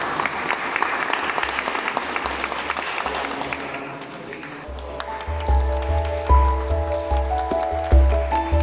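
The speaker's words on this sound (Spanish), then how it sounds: "Un aplauso." Applause rises from a congregation in a chapel, a crowd clapping for a few seconds before fading as low organ-like tones and chiming notes take over.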